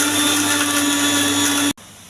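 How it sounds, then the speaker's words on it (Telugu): A mixer grinder runs loud and steady while grinding fresh coconut, cumin and tomato, a dense whirring drone that cuts off abruptly near the end, leaving quiet background. "మిక్సీ వేసుకోవాలి."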